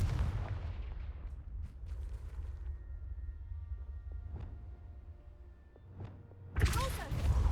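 Confringo blasting spell in the Hogwarts Legacy game, several dull booming impacts scattered over a low ambient rumble, ending in a louder sharp burst.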